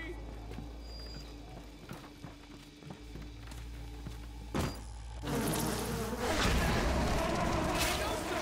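A buzzing swarm of bees in Bioshock hums steadily under someone talking, then swells into a louder, thicker drone toward the end.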